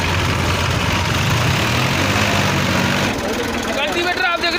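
A Massey Ferguson 245 tractor engine runs steadily with a rotavator attached, a loud, close, continuous low diesel rumble, with voices talking over it.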